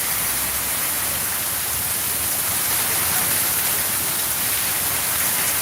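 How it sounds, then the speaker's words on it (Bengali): Steady, dense rain pours during a night storm in Sylhet, a continuous close hiss of drops on surfaces, wind mixed in, with no voices and no pauses throughout. "হয়তো বা বৃষ্টি চলেই আসলো গরমটা কাটার জন্য।"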